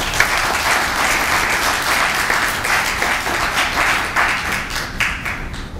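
Sustained audience applause in a lecture hall welcoming a visiting professor from Cornell University, a steady wash of many hands clapping close by for several seconds, slightly thinning toward the end.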